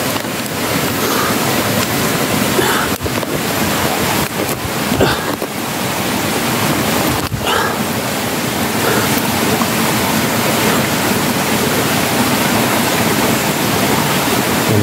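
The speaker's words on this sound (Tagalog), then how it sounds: "Tubig." Steady rushing water flows continuously outdoors, a loud, dense broadband wash with no pauses, nearby and dominant throughout.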